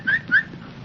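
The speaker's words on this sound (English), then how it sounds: "I reckon you whistle at lions." A person whistles two quick rising chirps to call a lion, close and fairly loud, then fades to quiet room tone.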